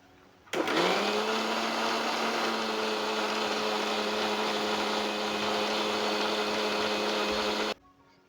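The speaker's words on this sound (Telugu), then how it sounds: "సో మొత్తం దీని అంతటినీ కలిపి ఇప్పుడు గ్రైండ్ చేయాలి మిక్సీలో." A mixer grinder runs steadily, blending spinach, bananas and leafy greens into a smoothie: a loud, sustained motor whine with a churning wash that starts abruptly, holds for about seven seconds, then cuts off.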